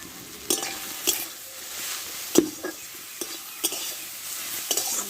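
Cumin seeds and spices frying in hot oil for a potato, moong dal and taro-leaf dish, a steady close sizzle broken by several sharp scrapes and clinks of a spoon stirring the pan.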